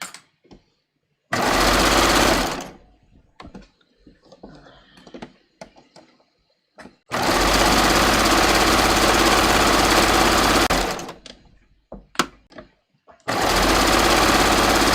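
Sewing machine stitching fabric for a raglan sleeve top, run with the presser foot up, three loud close bursts of rapid stitching separated by quiet handling sounds.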